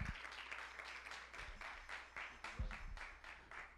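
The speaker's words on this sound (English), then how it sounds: "Give Charles a hand of applause." Steady applause from a church congregation, continuous clapping with a few louder bursts, fairly distant and sustained throughout.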